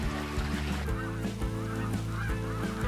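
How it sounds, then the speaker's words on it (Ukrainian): Flying geese give a dense run of repeated nasal honks, several birds calling over one another at close range, loud and unbroken. "А гуси вернулися назустріч летять."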